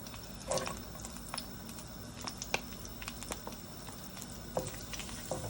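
Onion frying in a pan for lauki chana dal, a steady soft sizzle and crackle with scattered pops and occasional stirring clinks, fairly quiet and close with no talking.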